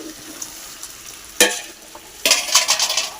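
Food being stirred in a cooking pot over the heat, with a couple of sharp scraping strokes against the metal over a soft sizzle, close by and without talk.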